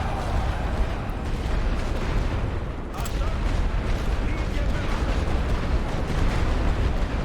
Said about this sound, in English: our light artillery's free, so let's make sure that's firing to quiet these guns a little bit